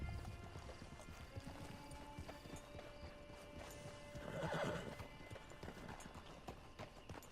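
In Red Dead Redemption 2, a horse's hooves clip-clop at a modest distance, with a clear neigh and whinny rising in the middle of the stretch against quiet outdoor background.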